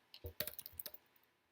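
A short quick run of keystrokes on a computer keyboard gives close, crisp clicks that thin out and fade over about a second, with no speech.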